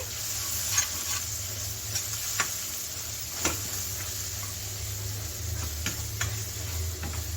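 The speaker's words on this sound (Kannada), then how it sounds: "ಇಷ್ಟು ಹಾಕೊಂಡ್ಮೇಲೆ ಒಂದ್ಸಲ ನೀಟಾಗಿ ಮಿಕ್ಸ್ ಮಾಡ್ಕೊಳ್ಳಿ" Spoon stirring cumin and garam masala through chicken gravy in a pan: a steady frying sizzle with several sharp scrapes and taps of the spoon against the pan at irregular intervals, close and alone.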